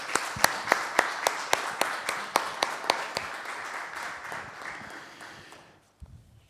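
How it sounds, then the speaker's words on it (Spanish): Applause for Javier at a municipal council meeting in Melipeuco: a room of people claps steadily with sharp, close claps standing out over the crowd, fading out near the end before a brief voice. "Un aplauso también"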